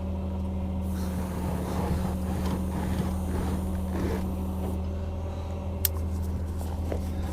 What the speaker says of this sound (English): I maxed out the crane a couple times, but finally got it spun around